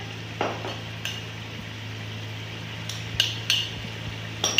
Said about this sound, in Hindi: अब मैं डालने लगी हूँ इसके अंदर अपनी पालक जो मैंने आपको दिखाई थी